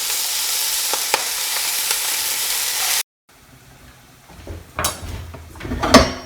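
Food fries in a pan until crispy, with a loud, dense sizzle that cuts off abruptly, followed by quieter crackling and a few sharp clatters of utensils.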